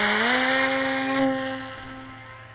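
The electric motor and folding propeller of a Raptor V2 RC plane with a plastic fuselage whine up loudly during takeoff, then hold a steady drone that fades as the plane climbs away.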